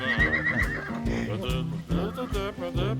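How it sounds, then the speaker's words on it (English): Horses whinny and neigh repeatedly in a field in the Lake District, close and fairly loud over a faint background. "here's the wee horses, you know, they're sitting there looking at us"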